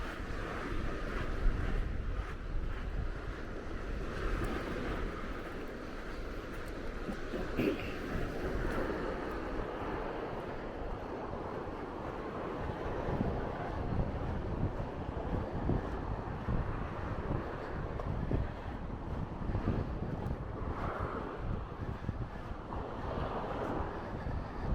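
Wind blowing on the Norfolk coast path between Hopton-on-Sea and Herring Bridge, buffeting the microphone with a constant low rumble and gusty roar, waves faintly beneath, steady and fairly loud for the whole stretch.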